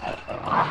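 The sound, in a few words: dog barking in Resident Evil video game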